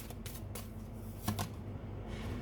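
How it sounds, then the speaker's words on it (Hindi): Tarot cards shuffled and drawn from a deck at close range, a few quick papery riffles and slaps over a quiet room hum. "मैं यहाँ से कुछ कार्ड्स निकाल लेती हूँ आपके लिए"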